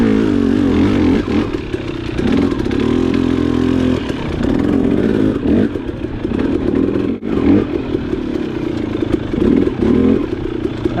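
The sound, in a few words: dirt bike riding on a wooded trail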